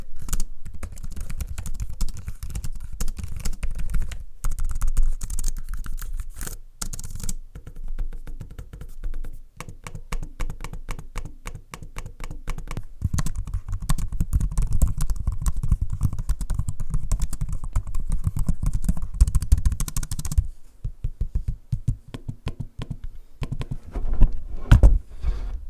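Typing and trackpad clicking on the detachable keyboards of a Microsoft Surface Pro 11 and a Minisforum V3 tablet, rapid close-up key taps in uneven bursts with brief pauses, steady and alone without speech.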